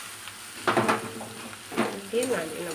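Leafy greens fry with onion and garlic in a pan, a steady sizzle broken by stirring scrapes and bursts of louder crackle, with a voice speaking briefly over the cooking.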